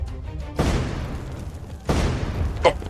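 Two heavy booming blasts land a little over a second apart, each a sudden loud burst fading into a long rumbling tail, with a sharper crack near the end over a continuous low roar.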